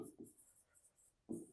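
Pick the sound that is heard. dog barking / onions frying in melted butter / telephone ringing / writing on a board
writing on a board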